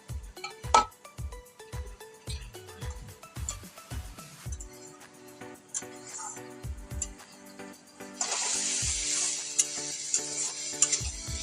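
Water added to a frying spice paste for a fish curry: rhythmic stirring taps at first, then a sudden loud, sustained sizzle and hiss as the liquid hits the hot pan.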